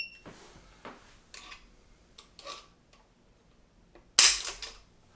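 An empty Taurus Raging Bull .44 Magnum revolver dry-fired in single action: a series of quiet mechanical clicks as the hammer is cocked and the cylinder turns, ending in one sharp, loud snap of the hammer falling.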